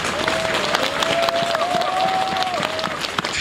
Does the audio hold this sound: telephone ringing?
no